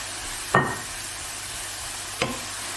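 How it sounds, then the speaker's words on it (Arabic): Vegetables stirred in a hot pan, with two quick scraping clacks of the utensil spaced well apart over a faint, steady low sizzle. "نبقى نقلب فيهم حتى يهبطوا"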